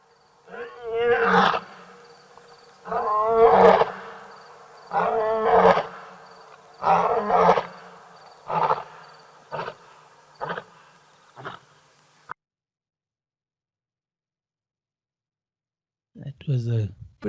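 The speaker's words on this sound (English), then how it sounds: "a wonderful clip of lioness roaring at Tembe" A lioness at Tembe roars in a sequence of deep, heavy grunting calls that grow shorter and softer, followed by a long silence and then one more close roar.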